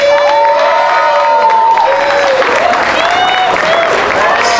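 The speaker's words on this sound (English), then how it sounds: "ladies and gentlemen, put your hands together for our little keiki" At a Polynesian show featuring children's hula, the audience bursts into loud, close applause mixed with cheering, whoops and high shouted voices, the crowd noise swelling and staying lively for the whole stretch.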